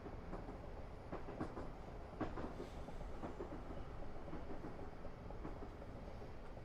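A distant train rumbles past in a railway simulator on the Portsmouth Direct Line, a faint, steady low roll with soft rhythmic clicks over the track and no talking.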